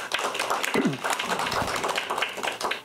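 Scattered clapping from a small audience at a political forum, uneven and moderately loud, with some brief low sounds mixed in.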